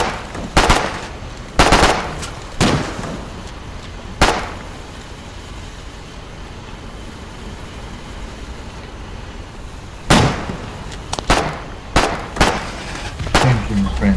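Gunfire from the video game Foxhole: sharp, loud shots in short irregular bursts, a quiet gap in the middle, then another rapid cluster of shots.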